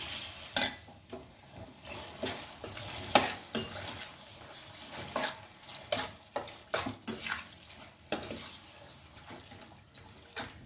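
Chicken liver fry with turmeric and salt gets stirred in a pan, with repeated scraping and clacking strokes of a spoon against the metal over a light sizzle, in uneven bursts.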